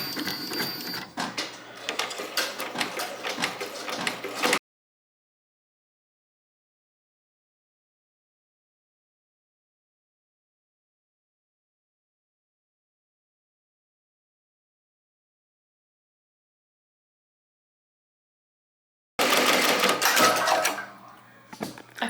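An embroidery machine stitching a design at reduced speed produces rapid mechanical clatter in two bursts, a few seconds at the start and again near the end, with complete silence in between.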